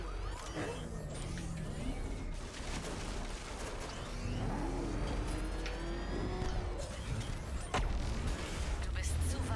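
Batmobile engine in Batman: Arkham Knight revving and roaring amid game effects, with rising and falling engine tones, whooshes and a sharp hit near the end; a voice talks over parts of it.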